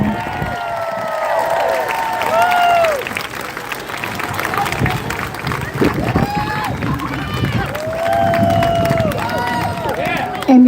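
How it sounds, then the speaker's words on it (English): A rally crowd at a Hands Off protest in New Orleans claps and cheers loudly and steadily, with shouts and whoops rising over the applause and a voice over a loudspeaker breaking in at times. "Everyone, keep clapping."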